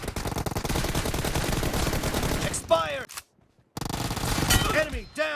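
Rapid Uzi bursts in the PUBG Mobile team deathmatch rattle loud and dense, then stop dead for a moment of near silence before the firing picks up again, with short electronic game chirps scattered through.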